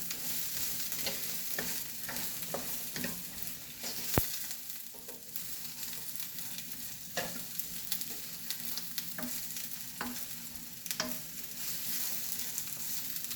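Onions frying for a seafood boil sauce sizzle steadily and loudly, with scattered stirring scrapes and a sharp clack of a utensil against the pan partway through.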